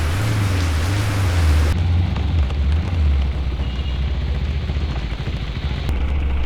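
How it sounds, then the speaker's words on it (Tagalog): Heavy typhoon rain pours in a dense, loud roar, and a low rumbling wind or vehicle drone sits under it during the first two seconds. "ganito kalakas ng ulan."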